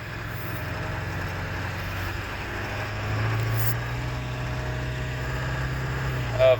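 A 1999 Ford 7.3 Powerstroke diesel truck idles in gear while still cold, a steady low rumble that swells slightly midway and holds, with no talk over it.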